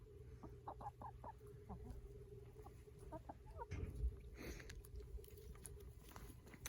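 Chickens cluck softly in a farmyard where a rooster is acting a little aggressive, with short repeated clucks and light pattering over a low background hum.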